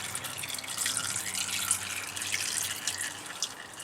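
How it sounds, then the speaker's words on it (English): Engine oil draining from a Cadillac Escalade during an oil change, a steady, close stream of liquid trickling and splashing for the whole stretch. "Let's drain some oil"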